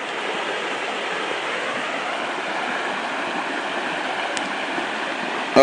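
Water in Cowlick Creek in the Rockies rushes and burbles continuously, a dense steady broadband wash heard close and fairly loud with no voices over it.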